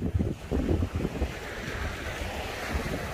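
Ocean waves break and wash up on a beach, a rushing surf roar with gusty wind noise buffeting the microphone, strongest in the first second and a half.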